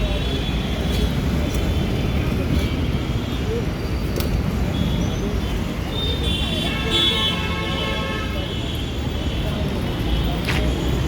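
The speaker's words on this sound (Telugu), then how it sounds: "ఇంకా ఇక్కడ గోల ఉంది, ఫుల్ ట్రాఫిక్." Steady roar of busy road traffic with passing vehicles and a few car horn toots, voices murmuring nearby throughout.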